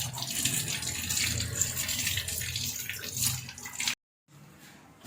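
Water runs steadily from a tap over giloy stems being washed, a loud close gush that breaks off briefly near the end before resuming.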